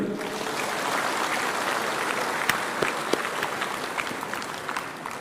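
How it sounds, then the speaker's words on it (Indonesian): An audience applauds at a swearing-in ceremony for civil servants in Badung, a steady, full wash of clapping with a few sharper individual claps standing out. "Ini tepuk tangan dulu nih."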